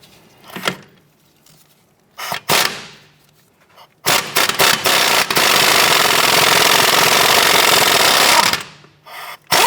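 On a 2006-2013 Chevrolet Impala's suspension during CV axle replacement, a nut is spun off with a power wrench: a few short rattling bursts, then a long, loud, steady hammering whir, close up.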